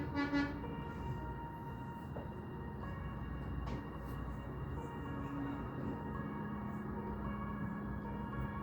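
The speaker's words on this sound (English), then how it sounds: "There's a horn honking in the background there." A vehicle horn honks faintly in the distance, a brief toot at the start followed by a low, steady hum of background noise.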